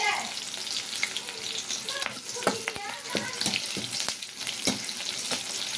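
Ladies finger (okra) sautéing in a pan until golden, with curry leaves, for a tamarind curry: steady close sizzle and hiss with scattered clinks and scrapes of stirring, a voice briefly audible beneath.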